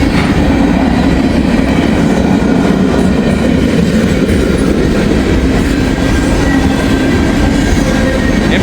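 A freight train of empty hopper cars rolls past close by, a loud, unbroken rumble of wheels with rhythmic clickety-clack over the rail joints and no voices.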